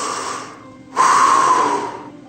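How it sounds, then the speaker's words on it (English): Heavy, slow breathing from someone crouching in bushes at night, heard close: a long exhale, a pause, then a louder, harsher rasping breath that tapers off. "Crouching somewhere in the bushes is something. You can tell by the heavy breathing."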